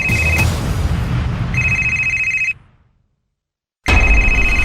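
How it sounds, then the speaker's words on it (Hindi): A telephone ringing loudly in repeated electronic bursts, cut off by a sudden silence of over a second before the ringing resumes. "लीला, रिश्ता तोड़ने के लिए फोन आया होगा"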